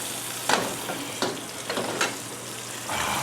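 Thick wagyu steak from Costco sizzles steadily in a pan right after being flipped, with a few sharp scraping stirs and a loud, continuous frying hiss close by.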